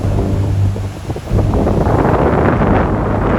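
Strong Meltemi wind of 25 to 30 knots at sea buffeting the microphone, a loud continuous rumbling roar that dips briefly and then surges back.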